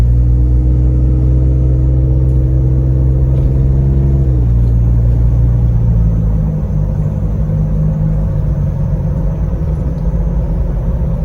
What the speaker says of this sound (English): So here's a driving video of the Jeep.